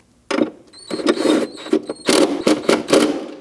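A 13mm bolt is run down and snugged on the battery hold-down of a 2009–2017 Audi Q5, giving close, loud bursts of ratcheting clicks and metallic rasps with short pauses between them.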